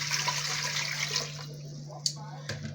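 One liter of clean water poured from a container into pots for making extra thick yogurt, a continuous splashing pour that tapers off, followed by a couple of short knocks.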